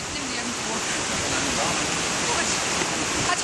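A waterfall rushes in a continuous, loud, dense roar of falling water, steady throughout with no break and no speech heard over it.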